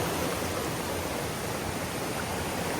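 Waterfall along a jungle trail with heavy water flow, a steady dense roar of rushing water filling the scene continuously, loud and close with no voices.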